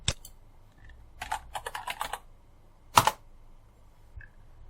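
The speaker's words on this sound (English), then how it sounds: "Type in a name." A name is typed on a computer keyboard in short bursts of crisp, close key clicks with brief pauses between, ending in one louder clustered press, set against a quiet room.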